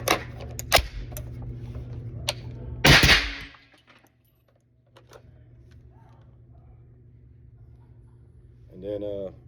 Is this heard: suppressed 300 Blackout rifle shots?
yes